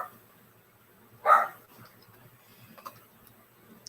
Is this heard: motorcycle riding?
no